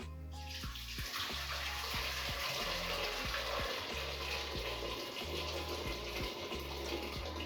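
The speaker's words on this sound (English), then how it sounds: "I have a kettle of boiling water here." Boiling water gushes and splashes steadily as it is poured from a kettle, a continuous rushing pour with a few low knocks and clunks, no voices.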